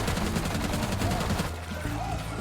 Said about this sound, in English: this weapon has 2 barrels firing with each trigger pull